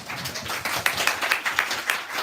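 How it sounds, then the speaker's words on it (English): Audience applause at a book event welcoming an author: a short burst of clapping from a modest crowd, uneven and fairly close, lasting a couple of seconds. "A round of applause, please."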